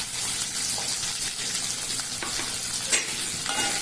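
Small shallots drop into hot oil with cumin and black pepper, giving a loud, dense, continuous sizzle with occasional crackles and stirring scrapes.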